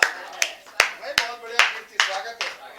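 An audience at a poetry recital claps in a loose, rhythmic series of sharp hand claps, fairly close and moderately loud.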